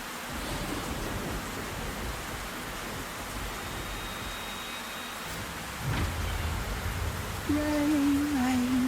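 Steady rain hiss fills the video game Black Mirror III, a continuous wash of falling rain with a brief louder burst near the end, and no talk over it.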